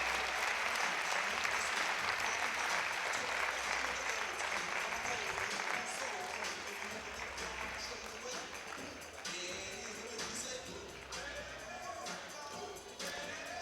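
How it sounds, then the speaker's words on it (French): A large audience applauds steadily and loudly for the new French women's doubles champions at a national final. The clapping is sustained, and an announcer's voice carries faintly over it. "Faites du bruit. Ovation pour les nouvelles championnes de France."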